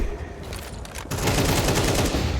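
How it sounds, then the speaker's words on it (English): Rapid automatic AK-47 rifle fire in a Counter-Strike professional match, a dense burst of sharp cracking shots that grows louder and continues steadily, with no voices over it. "Flames has done well there, taking down the AK"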